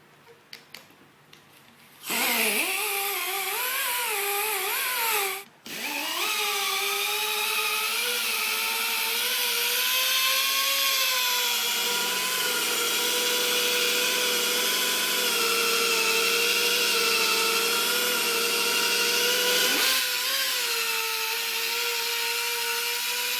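A buffing wheel spins against lacquer on a guitar body, a steady loud high whine with a sharp drop near the start, then a continuous close drone that shifts in pitch as pressure changes, with no talking.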